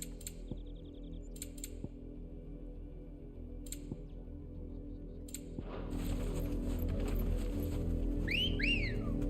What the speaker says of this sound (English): Wolf whistle?